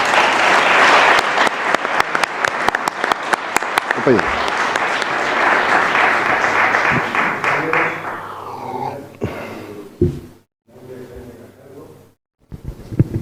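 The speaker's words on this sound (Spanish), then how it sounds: "dar un gran aplauso" An audience at the inauguration of a trade union school breaks into loud, sustained applause that fades out after several seconds, leaving scattered claps and someone speaking briefly.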